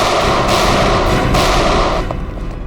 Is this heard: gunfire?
yes